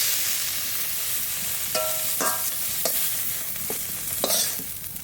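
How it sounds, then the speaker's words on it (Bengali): Winter vegetables being stirred and lightly fried in a pan, with a constant sizzle and a series of sharp spatula scrapes and taps spaced every half second or so. "এবার একটু নাড়াচাড়া দিয়ে তুলে নেব, হালকা একটু ভেজে নেব।"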